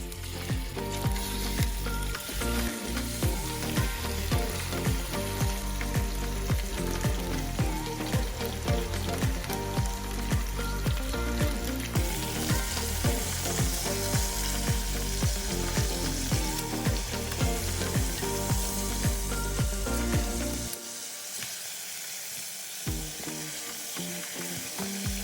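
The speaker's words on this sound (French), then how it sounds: "dans une casserole, je viens mettre l'équivalent de 2 cuillerées à soupe d'huile d'olive et je viendrai faire dorer ma viande" Meat browns in olive oil in a pan, sizzling and frying steadily, loud and close, with occasional stirring, then the sizzle drops lower near the end.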